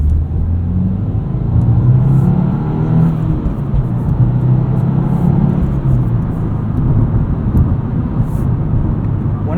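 A 2025 Subaru WRX tS pulls ahead under throttle, its engine a steady loud rumble and whir inside the cabin with road noise, rising slightly in pitch over about ten seconds with no pauses.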